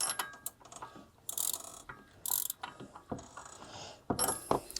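A 13/16 socket wrench ratcheting on a cheap used four-wheeler, close and fairly quiet, in several short bursts of clicking separated by pauses, with no talking.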